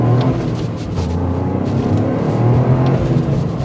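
A 2024 Toyota GR Corolla Circuit Edition with 300 horsepower accelerates in sport mode, its engine a loud, steady, close droning roar for a few seconds without speech.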